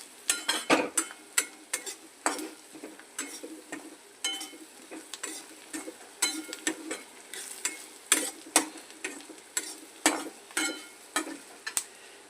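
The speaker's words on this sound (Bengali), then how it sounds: "মশলাটাকে ভালো করে কষাবেন।" Spice masala being stir-fried in a pan for Bengali egg curry: a steady rhythm of spatula scrapes and stirring strokes over a soft sizzle, close and repeated for several seconds.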